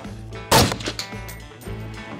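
A single loud, sharp shot from a .308 AR-10 rifle during an exotic deer hunt cracks close by, then decays quickly into a low, steady background hum.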